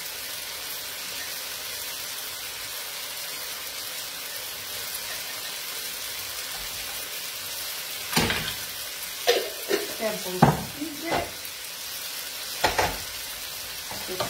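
Chili and anchovy slices frying in a pan, a constant soft sizzle with several sharper crackles and spatters toward the end, and a few spoken words over it.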